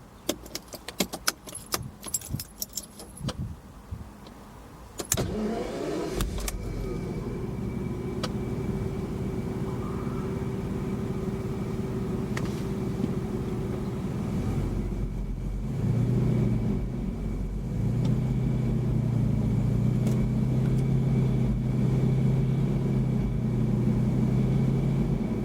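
Keys jangle briefly before a classic V12 Jaguar XJS convertible cranks and fires, settling into a smooth, deep idle that swells louder with a rev near the end, close and alone.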